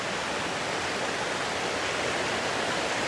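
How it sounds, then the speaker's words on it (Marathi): Heavy rain and rushing water form a dense, even roar of noise, loud and constant throughout like a nearby waterfall or swollen stream, with no voices audible over it. "पाण्याचा आवाज जास्त आहे ना, माझा आवाज कमी येईल."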